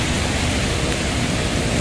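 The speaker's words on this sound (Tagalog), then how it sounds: "Malakas ang ulan eh." Heavy rain pouring down near a footbridge in Baclaran, a dense, loud, unbroken hiss of downpour filling the whole short stretch with no voices.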